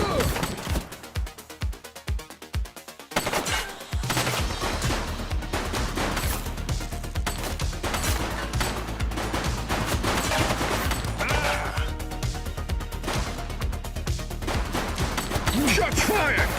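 Gunfire in a police shootout in the video game The Precinct: a few separate sharp shots early on, then sustained loud bursts of automatic fire over a dense, steady game soundtrack.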